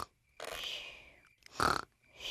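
Cartoon piglet George snoring in his sleep, a few drawn-out rasping snorts with short quiet gaps between them, close and clear.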